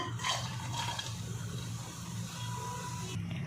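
Water is poured into a hot pan holding jaggery to melt it into syrup, giving a short burst of splashing and trickling at close range.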